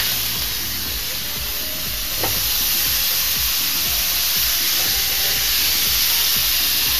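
Steaks sizzle on a Starfrit The Rock stovetop grill, a steady loud hiss of searing meat running throughout with a brief crackle near the start and no talking.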